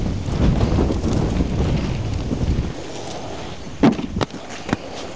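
Gusting wind buffets the microphone during an aggressive inline skating session, a loud steady roar for most of the clip before easing, followed by a few sharp wheel clacks and scrapes.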